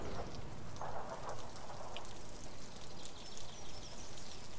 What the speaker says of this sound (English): Gunky rain.